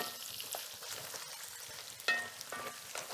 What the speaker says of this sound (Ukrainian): Додаємо чесник і гарно перемішуємо